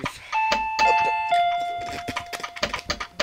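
A doorbell in the Paranoiac video game rings with two clear sustained chime tones, ringing out over a busy clatter of other game sounds and clicks.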